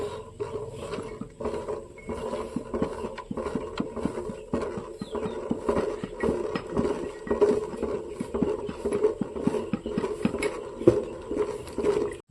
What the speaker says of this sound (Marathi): असं चांगलं विरघळस तर आपण हलवायचं, याला हळूहळू टाकत जायचं.